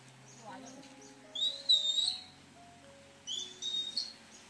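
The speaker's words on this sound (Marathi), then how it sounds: "आता पक्षी आहे ना इकडे ह्या साईडला आहे तो पण साथ देतोय" A bird calls near a monsoon village in rural Konkan while a person whistles. Chirps and trills come in two bright bursts over a faint outdoor background, and soft talk can be heard.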